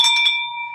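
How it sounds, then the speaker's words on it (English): A bell is struck once, giving a bright metallic clang that rings on as a clear sustained tone, close and fairly loud, with no voices. "Ring that bell."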